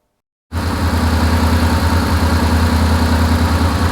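A 1972 Porsche 911 Targa engine starts abruptly after half a second of silence and settles into a steady, loud, close idle with a throbbing low rumble, running alone to the end.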